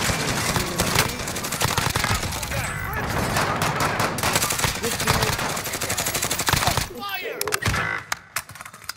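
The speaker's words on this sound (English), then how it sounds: "I'm taking fire!" Dense, continuous automatic gunfire and rapid bursts in a Warzone battle royale firefight, loud and close throughout, with someone shouting over the shooting before the barrage thins out near the end.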